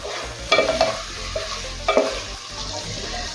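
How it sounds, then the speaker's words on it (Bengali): Chicken coated in green chilli paste sizzles in a pan over a medium-high flame, with two loud bursts of a spoon stirring and scraping against the metal amid a steady frying hiss, close by and without speech. "গ্যাসের ফ্লেম মিডিয়াম টু হাই রেখে এক থেকে দু মিনিটের জন্য নেড়েচড়ে রান্না করে নেবো"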